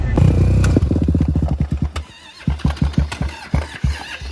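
A Honda 400EX ATV engine cranks with a fast stuttering chug, then catches into uneven, close popping revs that pulse irregularly in a Frisco, Texas neighborhood.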